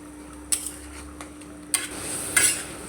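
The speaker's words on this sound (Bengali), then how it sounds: "এখন মশলাটা ভালো করে কষায় নিব।" Spice masala being sautéed in a pan, a soft low sizzle broken by a handful of sharp spoon scrapes and taps as it is stirred.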